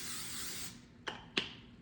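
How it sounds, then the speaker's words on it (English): Two quick bursts of nonstick cooking spray hiss into a 9x5 loaf pan, each short and sharp, following a longer steady hiss; no talking. "we're going to grab our nonstick spray and our 9x5 loaf pan. And we're going to give it a quick little spray"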